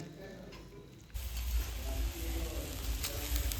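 Vegetables with garlic and a couple of chili pieces hit hot oil in an iron wok over a wood-fired stove, setting off a sudden loud, steady sizzle that runs on after a quieter start.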